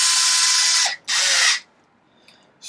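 Power tool driving bolts into the ring gear of a Typhon RC car differential: two loud sustained whirring bursts about a second and half a second long, separated by a short gap, with a faint mechanical tick afterward and another burst starting at the end.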